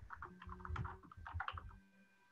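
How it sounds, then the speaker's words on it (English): Fast, uneven keystrokes on a computer keyboard tap out in short bursts over about two seconds, close and moderately loud, with a faint tonal hum underneath. "My typing's a little slow."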